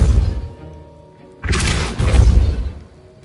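A Depulso spell cast in the Hogwarts Legacy video game lands as a sudden, loud whooshing burst, then a second heavy, rumbling impact follows close behind. There is no talk.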